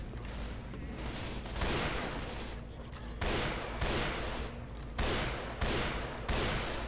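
Rapid gunfire from the video game Left 4 Dead 2 crackles in dense, loud bursts that run almost without a break. Several sharper volleys stand out along the way.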